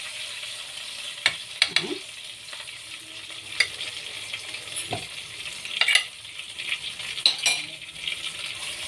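Chicken pieces fry in a pan with a steady sizzle, punctuated by several clinks and scrapes of a utensil and brief stirring; a voice speaks briefly.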